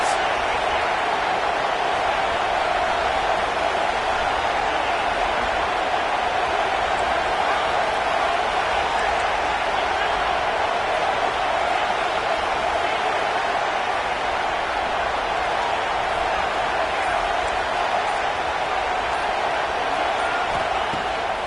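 A packed college football stadium crowd roars steadily on a big third-down defensive play, a dense, unbroken wall of cheering that holds at the same loudness the whole way through.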